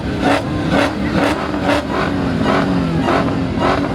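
A supercharged Dodge Charger Hellcat at a car show gives a steady engine note with a high whine, pulsing rhythmically over about four seconds, fairly close and loud.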